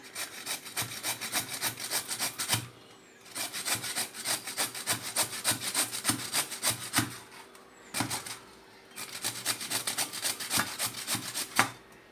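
Beetroot is shredded on the large side of a hand slicer with quick, rhythmic scraping strokes in three runs split by short pauses, close and fairly quiet.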